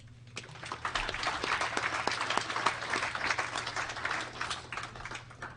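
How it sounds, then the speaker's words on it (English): A crowd at a Limousin cattle genetics show and auction gives sustained applause, many hands clapping in a dense, moderately distant patter that holds for several seconds without speech. "let's give one big round of applause to all the MOE exhibitors for all their hard work in 2020"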